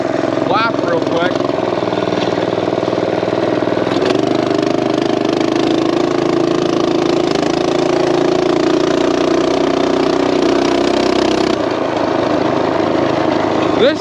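A Coleman minibike fitted with a torque converter runs a short lap at night, its small single-cylinder engine droning loud and close, rising and falling with throttle; a rider talks over it at times.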